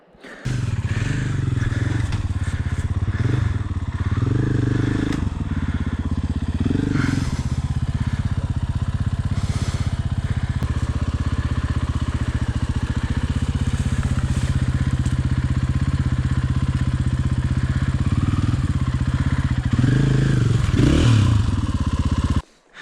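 A trail motorcycle labours continuously over a rocky off-road section of the Tour of Idaho, its engine droning close by with clatters and scrapes as the bike and its engine cases strike rocks.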